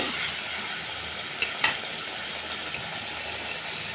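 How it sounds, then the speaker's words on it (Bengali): Spice paste frying in oil in a pan for a snakehead fish tomato curry, giving a steady, even sizzle with two brief utensil clinks partway through and no talking. "এখন সুন্দর করে কষায় নেব তেল উঠে গেছে মশলাটা কষানো হয়ে গেছে"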